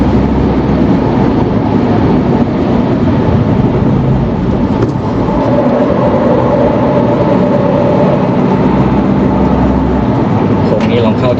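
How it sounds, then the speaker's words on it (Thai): An Isuzu D-Max pickup with the 2.2 Ddi MaxForce engine takes a curve fast at about 100 km/h. Its steady, loud engine and road roar fills the cabin while someone talks over it. "ลองเข้าแบบเร็วๆ นะครับซิ่งไลน์ ขับได้สนุกครับ เข้าโค้งด้วยความเร็วประมาณร้อยหนึ่ง"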